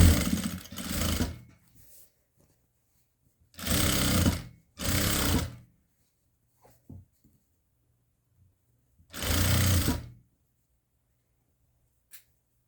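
Sewing machine stitching a fabric border hem onto cloth for Christmas decor, running in four loud separate bursts of roughly a second each with quiet pauses and small handling sounds between.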